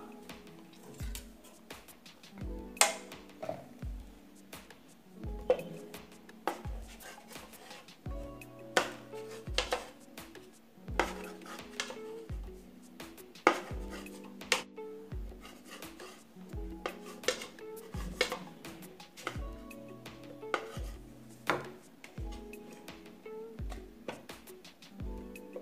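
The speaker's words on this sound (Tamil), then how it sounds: "இப்போ இந்த பிரெட்ல இருக்கக்கூடிய அந்த ஓரங்கள்ல இருக்கக்கூடியதை கட் பண்ணிட்டு சின்ன சின்ன துண்டுகளா ஆக்கிக்கலாம்." A knife trimming the crusts off slices of bread on a board, giving a long run of steady, regular knocks and light scraping strokes, close up and moderately quiet.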